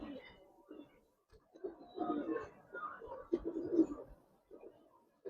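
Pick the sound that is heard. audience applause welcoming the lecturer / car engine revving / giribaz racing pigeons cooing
giribaz racing pigeons cooing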